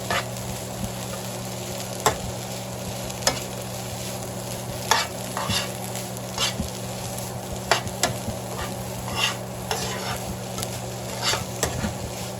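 Cabbage seasoned with pepper and adobo frying in a pan as it is stirred, a steady sizzle punctuated by repeated utensil scrapes and taps.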